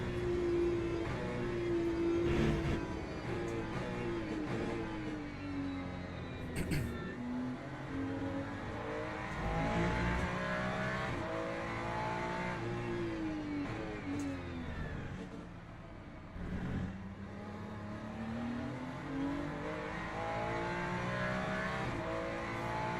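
Race cars, including an Aston, roar through Le Mans Ultimate online racing with continuous close engine revving, rising and falling gear shifts and brief pass-by surges over a long stretch.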